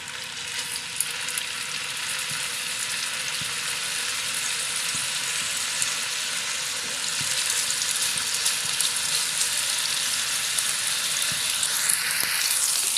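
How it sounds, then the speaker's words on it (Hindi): Chicken seekh kebabs sizzle and fry in a lightly oiled frying pan, a steady dense crackle with occasional pops, close and continuous throughout. "फ्राई करने के लिए डालते हैं फ्राइंग पैन में।"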